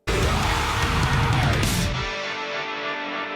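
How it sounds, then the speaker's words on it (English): A guitar note is held out, loud and dense with heavy reverb, and the low end cuts away partway through, leaving a thinner ringing tail. "So it's just like some guitar note held out with tons of reverb"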